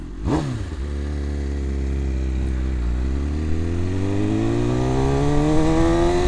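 A 2026 BMW M1000RR superbike engine revving under a rider. The note dips briefly, then climbs in a long, smooth rising howl, loud and close, with a clattery mechanical edge.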